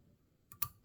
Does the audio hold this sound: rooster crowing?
no